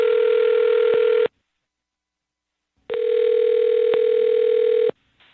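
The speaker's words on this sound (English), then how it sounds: "I'm going to dial the phone number right now" Steady telephone dial tone on a landline handset before a number is dialled, loud and continuous, cutting off for about a second and a half and then resuming, with no voices.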